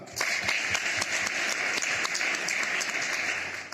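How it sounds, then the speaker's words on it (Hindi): A crowd applauding steadily, dense clapping sustained at an even level throughout with no voices over it. "उनके नाम पर एक जोरदार ताली।"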